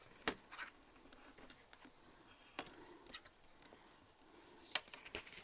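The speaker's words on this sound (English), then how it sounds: "let's do a bit of folding and burnishing on this" Paper being folded and burnished for a hexagonal pop-up box, faint scattered creases, rubs and taps on a desk, quiet and close with no talk.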